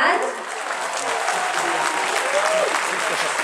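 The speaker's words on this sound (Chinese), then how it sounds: "用最热烈的掌声欢迎国立台湾交响乐团青年交响乐团" Warm applause from a concert audience welcoming a national youth symphony orchestra, a steady dense wash of clapping that holds at even loudness throughout.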